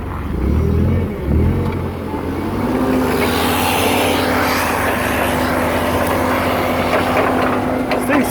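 Forklifts in a drag race, with a loud, continuous engine drone close by and a steady whining tone that rises and holds.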